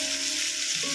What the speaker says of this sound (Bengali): জাস্ট একটু নাড়াচাড়া করে নেবো, হালকা করে ভেজে নেবো